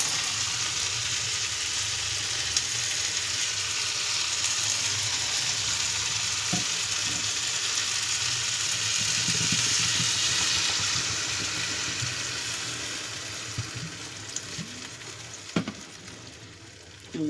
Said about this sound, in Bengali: এবারে জলটাকে ঢেলে দেবো।